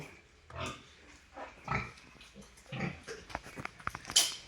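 A sow that has stopped eating its feed grunts and snorts in a series of irregular bursts, close by, with the grunts growing quicker and sharper toward the end.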